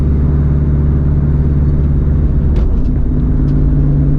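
A 2015 Subaru WRX hatchback fitted with an STi steering rack rolls onto an on-ramp, its engine a loud, steady, low rumble heard from inside the cabin, with a few faint clicks.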